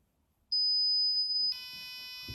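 A motion-sensor buzzer on a Raspberry Pi Pico holds a loud, steady electronic beep tone for about a second, then shifts into a harsher, buzzier alarm tone that continues, close and piercing.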